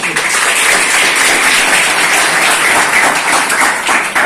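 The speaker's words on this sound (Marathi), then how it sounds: "टाळ्या वाजवा" Loud, dense applause from an audience at a computer classes promotional event, a steady wash of many hands clapping close by for about four seconds without a break.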